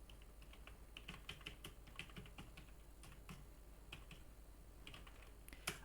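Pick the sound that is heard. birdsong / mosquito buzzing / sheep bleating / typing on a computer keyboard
typing on a computer keyboard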